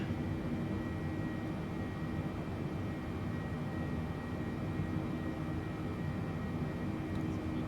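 Boeing 747 jet engines in a flight simulator spool up with a steady, dense roar and whine that holds evenly throughout at moderate loudness, with no talking.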